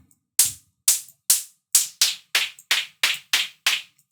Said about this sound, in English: you can hear already that this sends something like a clap